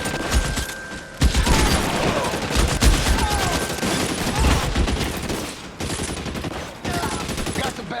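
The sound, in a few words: gunshots in the video game LA Noire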